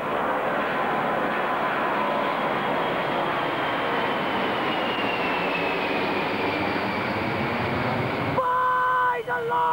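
An airplane taking off, a loud, sustained engine roar with a rising whine that dominates throughout, then cuts to a quieter, more distant hum near the end, with no clear talking.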